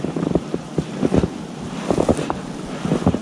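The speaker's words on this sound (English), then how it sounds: "As you can tell, it's a little bit windy." Wind gusts batter the microphone outdoors during a December deer hunt in West Virginia, with rough, uneven rumbling bursts rising and falling throughout.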